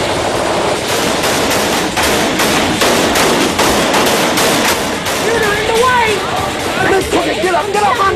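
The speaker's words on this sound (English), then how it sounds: "when the gas was fired, that's when the full automatic machine gun fire started" Sustained full-automatic machine gun fire in a police shootout at a house, rapid loud bursts of gunfire rattling almost continuously, with voices and shouting rising underneath toward the end.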